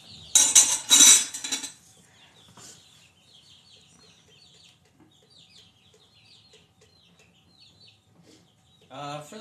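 Pet chicks kept indoors give faint, scattered high peeps through the middle, framed by louder bursts of clattering dishes and cutlery at the start and again at the very end.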